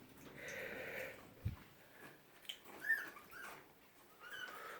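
Cairn Terrier puppies whimper and yip softly in a cage, a few faint high whines and small cries scattered across a quiet background with one brief thump.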